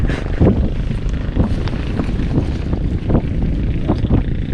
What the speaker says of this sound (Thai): เสียงเรือ